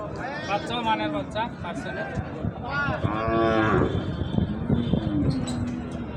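Dairy cow of an improved milking breed mooing at a busy rural cattle market, several drawn-out moos close by over crowd chatter and speech.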